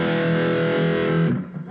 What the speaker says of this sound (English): I'll go ahead and play these chords all the way down so that you can hear their tones